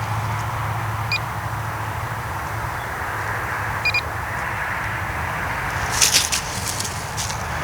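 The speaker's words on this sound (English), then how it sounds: "I don't trust those short little beeps" A few short, high electronic beeps chirp at intervals over steady outdoor background noise, with a small cluster of clicks near the end.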